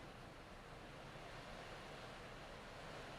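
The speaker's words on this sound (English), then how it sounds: "really good wind gust." Strong wind gust sweeping through an outdoor spot in the Fort Myers area of southwest Florida during storm weather, a steady loud broadband roar that holds for several seconds with no talking.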